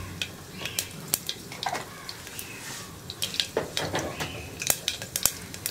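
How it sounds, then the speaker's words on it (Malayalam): Mustard seeds splutter in hot coconut oil inside a pressure cooker, sharp scattered pops and crackles over a soft sizzle, some bursts clustering closely together, heard close with no speech. "കടുകൊന്ന് പൊട്ടി വരട്ടെ."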